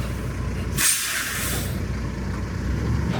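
A semi truck with a 55-ton beam trailer backs up, giving one sharp burst of air brake hiss early on over a steady diesel rumble with no talking.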